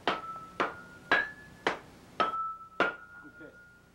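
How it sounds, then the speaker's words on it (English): Twenty-pound steel hammers, swung by a team of four men, strike a red-hot gong disc as a handler rotates it. Six sharp metallic blows fall in a steady rhythm, each leaving a ringing tone. "A team of four men, wielding 20-pound steel hammers, strike the piece as it is rotated by the handler."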